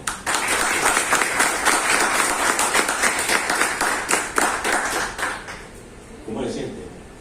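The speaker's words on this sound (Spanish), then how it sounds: "Un aplauso para los tres, por favor." Audience applause for three guests at a Spanish-language talk event, dense clapping that fades out around six seconds, followed by a brief voice.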